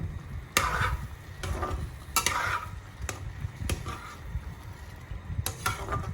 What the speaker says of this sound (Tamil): நல்லா மசாலா மாதிரி ஆகிற வரைக்கும் கிண்டி விட்டுட்டு இருங்க